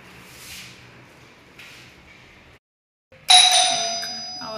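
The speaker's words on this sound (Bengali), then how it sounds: "calling bell" A household doorbell rings: after soft faint rustling and a short silence, a bright, loud electronic chime sounds and then rings on and slowly fades.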